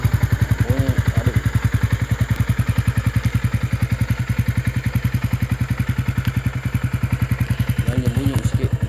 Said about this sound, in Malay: Exhaust padu exhaust skin drag bunyi ada.